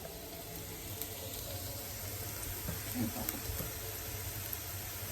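Onions sauté in a pan for vermicelli upma, a soft continuous sizzle with faint crackles and occasional clinks of a spoon, fairly quiet and steady throughout.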